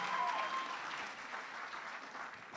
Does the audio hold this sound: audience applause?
yes